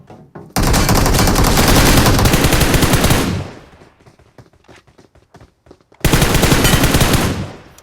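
Rapid automatic gunfire in PUBG Mobile, two loud close sustained bursts separated by a short pause with faint footsteps and clicks between them.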